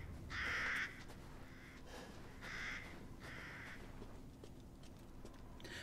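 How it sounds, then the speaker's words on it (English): Crows caw in Resident Evil Village, a few loud harsh calls in short bursts over a steady eerie ambient bed, with no talking. "Why is it that crows like that always make things seem a lot creepier?"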